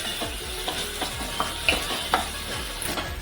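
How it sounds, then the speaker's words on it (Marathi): Finely chopped onion frying in a pan for a Maharashtrian spinach and gram-flour dish, a steady sizzle broken by repeated scraping stirs and a few clinks, close and moderately loud with no talking. "इथे मी एक कांदा बारीक चिरून घेतलेला आहे हा आपल्याला पूर्णपणे शिजवून घ्यायचा आहे"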